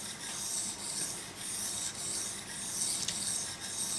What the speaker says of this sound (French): on vient plus affûter le couteau, là on vient juste polir la lame et affiner le tranchant